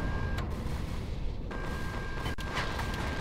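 Capital ship turrets in Empyrion Galactic Survival open fire in a dense, continuous barrage of booming shots, with a couple of sharp cracks standing out from the rumbling din.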